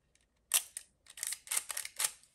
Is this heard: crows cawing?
no